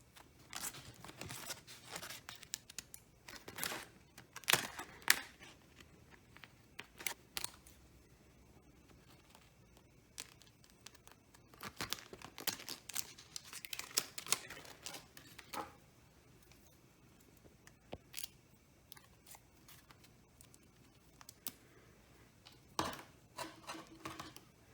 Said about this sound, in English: This is our template, so we cut it on this way.